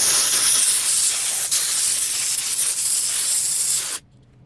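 A steam cleaner blasts a loud, steady hiss onto an engine being cleaned, the broad rushing spray holding constant for about four seconds before cutting off abruptly into near silence.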